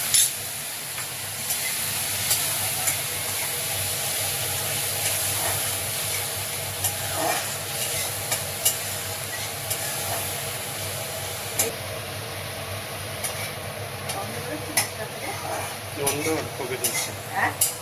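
Spices frying in oil in a pan while cooking a potol curry, giving a steady soft sizzle and hiss with occasional stirring scrapes, continuous at moderate level.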